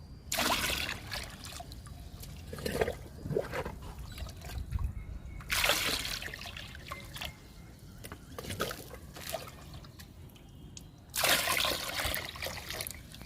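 Water is poured from a mug while a liquid fertiliser is mixed for flowering plants, in several splashing bursts of pouring with short pauses between them.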